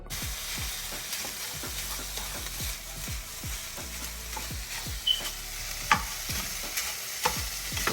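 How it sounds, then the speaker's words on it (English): Italian sausage sautéing in a pan for a Zuppa Toscana copycat, a steady close sizzle broken by repeated scraping stirs and a few sharper spatters, with no talking. "Just sauteing that meat. Creating a nice brown glaze over the Italian sausage."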